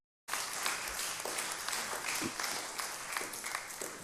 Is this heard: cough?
no